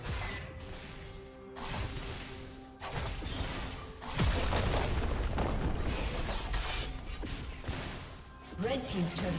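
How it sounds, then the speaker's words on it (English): A turret is destroyed in the League of Legends video game: layered crashing, shattering and booming effects in bursts over a dense game soundscape, with a voice mixed in. "Red team's turret has been destroyed."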